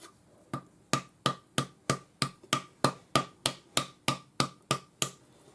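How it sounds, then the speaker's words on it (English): A rawhide hammer strikes a metal leaf bangle in a steady series of about fourteen sharp, evenly spaced blows, close and clear with no talking. "Now I'm going to use my rawhide hammer to hammer this"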